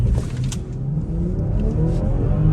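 A BMW X5 M Sport accelerates hard during a 0 to 100 launch. Its engine gives a loud, steady roar with road and wind noise throughout the short burst.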